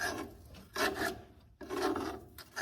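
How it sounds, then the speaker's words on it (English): Scraping an old, oil-soaked mouse nest out of a Jeep bell housing, two rough rasping strokes of a tool against the grimy metal, close and fairly quiet with a short pause between, no talking. "So I gotta scrape that out of there"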